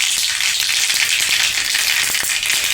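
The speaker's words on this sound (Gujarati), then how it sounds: "હવે હું એમાં 1 ચમચી રાઈ નાખીશ। રાઈ ફૂટી જાય ત્યારબાદ હું એમાં અડધી ચમચી જીરું નાખીશ અને અડધી ચમચી વઘાણી નાખીશ" Mustard seeds, cumin and fenugreek frying in hot oil for a moong dal tempering, giving a loud, dense, continuous close sizzle with faint crackles and no talk.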